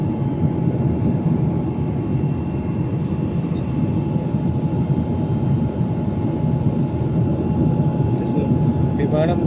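Steady, loud cabin drone of a passenger airliner cruising above the clouds on a flight to Delhi, an even broadband rumble with a faint tonal hum that holds without a break throughout.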